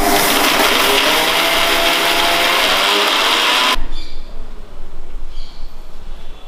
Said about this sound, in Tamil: வறுத்து வச்ச அவல், அதையும் நம்ம மிக்சியில் கொட்டிடுவோம்